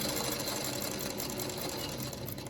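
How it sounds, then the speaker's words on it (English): A sewing machine stitches steadily through quilt fabric and interfacing, a continuous fast mechanical whir and chatter, close and unbroken, with no talk. "I'm just going to over sew right on the line again a little bit"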